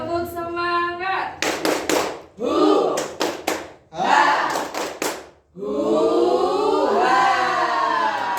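A classroom group performs the rhythmic 'tepuk semangat' spirit clap during an ice-breaking activity: sharp bursts of claps in short patterned groups, alternating with loud group voices chanting along.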